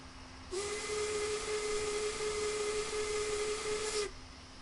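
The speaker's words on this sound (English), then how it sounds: "That's the sound of the whistle" A loud, steady steam locomotive whistle in Train Simulator (Settle to Carlisle route) blows continuously for about three and a half seconds, a single sustained tone with a hissy edge over a low background rumble.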